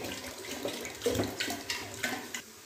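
Water pours into a cooking pot, a 1.5 litre fill for soup stock, splashing and gurgling in uneven bursts, close and moderately loud with no talk.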